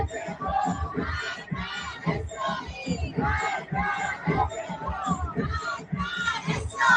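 A crowd roars and yells continuously, thick and boisterous, heard as playback of recorded footage, with no pause in the cheering.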